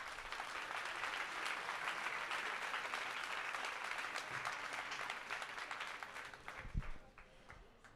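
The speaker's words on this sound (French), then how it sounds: "On peut les applaudir." Audience applause for a team after jury scores are read at a simulation competition event, a dense, fairly distant wash of clapping that holds steady, then thins out near the end with a thump.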